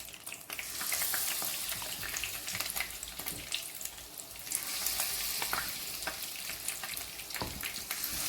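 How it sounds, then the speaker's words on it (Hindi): Chicken pieces for Korean sweet and sour chicken deep-fry in hot oil, making a dense, steady crackling sizzle close by, with occasional louder pops and no talk. "ये देखिए एक बैच हमने फ्राई कर लिया है। अब दूसरा हम डालते हैं।"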